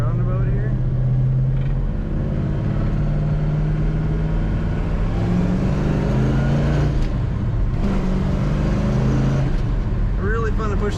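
A 1968 Chevrolet Chevelle SS 396 pulls in second gear out of a roundabout, its loud, deep V8 note climbing in pitch as the throttle is pushed down, then easing and building again.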